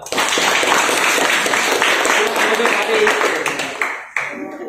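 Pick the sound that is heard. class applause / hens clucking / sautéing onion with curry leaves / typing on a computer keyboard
class applause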